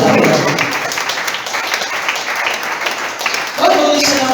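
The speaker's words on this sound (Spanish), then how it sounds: "Aplausos." Church congregation applauding during a Spanish-language sermon, a dense wash of clapping that runs the whole time and swells again near the end, with a voice rising over it at the close.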